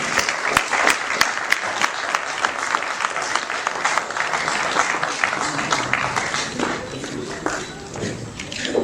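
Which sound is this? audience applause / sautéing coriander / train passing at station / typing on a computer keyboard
audience applause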